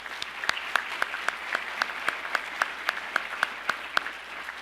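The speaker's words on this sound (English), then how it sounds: "Let's give them a round of applause for putting all this together." Audience applause at a 2017 National Honor Society ceremony, a steady patter of clapping with sharp individual claps popping out at fairly regular intervals, moderately loud and with no talking.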